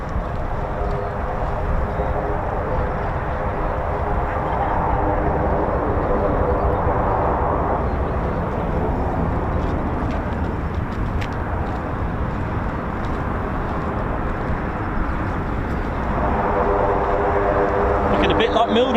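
A military jet backtracking along the runway at RAF Lakenheath, home of the 48th Fighter Wing, gives a steady, broad jet roar that holds throughout and swells slightly near the end, with voices talking over it.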